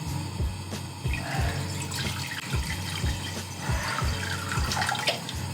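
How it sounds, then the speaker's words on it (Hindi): Water being poured into a cooking pot over a fire, a continuous splashing, gurgling stream heard up close, with no voices. "सबसे पहले आप आग जलाएं और उसमें 1 से 2 कप पानी डालें।"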